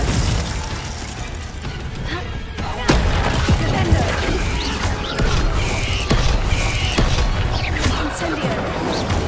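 Glacius ice and Confringo fire spells firing in the game Hogwarts Legacy: a string of loud cracks, shattering impacts and booming blasts, heavier after the first few seconds, with combat clatter throughout.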